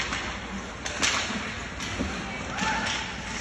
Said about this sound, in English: Slapped at, controlled by Williams.